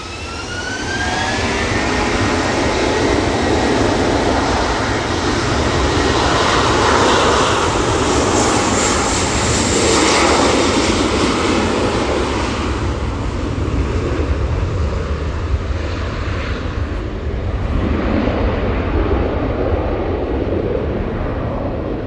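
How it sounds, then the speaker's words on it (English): A Turkish Airlines Airbus A321ceo jet departs Manchester Airport bound for Istanbul with a loud, sustained engine roar and a rising whine early on, holding strong before gradually easing, with no voices. "So that's the Turkish Airlines A321 CEO going back to Istanbul."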